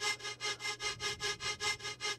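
Background ambience for a melodic dubstep drop, a bright breathy noise texture swelling and fading in a steady pulsing rhythm about four times a second, moderately loud and alone.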